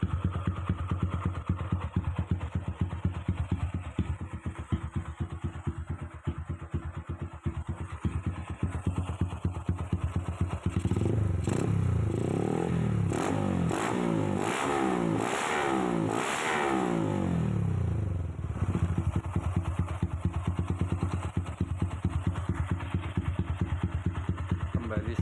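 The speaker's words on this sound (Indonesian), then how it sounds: "stabil di bawah 1000 RPM." A Honda Tiger motorcycle engine after a carburetor service ticks over at a steady idle below 1000 RPM, close and even, with a throttle blip swelling briefly in the middle before it settles back to idle.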